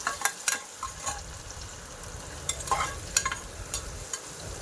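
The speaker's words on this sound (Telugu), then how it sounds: "అల్లం ఉల్లిగడ్డ పేస్ట్ మంచిగా ఫ్రై అయ్యే వరకు అయితే కలుపుకొనే ఉండాలి లో ఫ్లేమ్లోనే పెట్టుకోవాలి" Ginger and onion paste frying on a low flame while being stirred: a steady soft sizzle broken by repeated scraping strokes of the spoon in the pan, with no talking.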